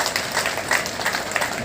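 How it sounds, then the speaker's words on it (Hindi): An audience claps in a steady wash of applause for a member of parliament at a public event about new train services. "सांसद जी का जोरदार ताली बजा के अभिनंदन करें"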